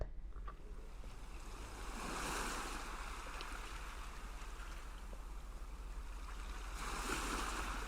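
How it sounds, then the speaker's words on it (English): Ocean waves washing onto a beach, a steady broad rush with slow swells of surge and retreat, played back continuously with no talking over it. "That was the ocean sound."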